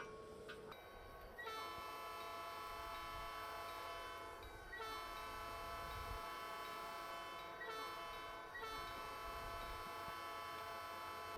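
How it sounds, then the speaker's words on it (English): A locomotive horn sounds at a road crossing in the Train Simulator 2021 video game, with loud sustained chord blasts repeating in long and short pulses over a low rumble of rolling rail cars. "let you guys listen to the sound of this beautiful horn"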